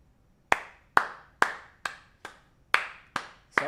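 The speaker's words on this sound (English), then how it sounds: "Start clapping." Slow, evenly spaced single claps, eight sharp hand claps roughly every half second, near and distinct with short decays, as a crowd is led in clapping during a Bengals versus Jaguars football game.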